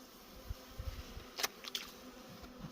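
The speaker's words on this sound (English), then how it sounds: "More bees than last year." Bees swarming thickly around a beehive in early season, a continuous soft buzzing drone with a few brief nearer passes, no voices present.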